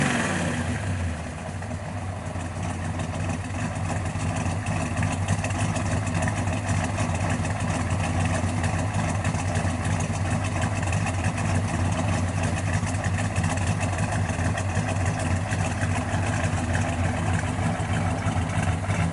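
A 1969 Chevrolet Chevelle COPO 427 with a solid-lifter V8 and factory-type exhaust and mufflers idles steadily and loudly, a deep, continuous rumble running throughout with no talking.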